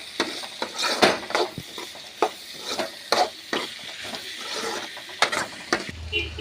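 Spices with turmeric powder sautéing in a pan while a spoon stirs and scrapes in repeated sharp strokes over a steady close sizzle, no talking.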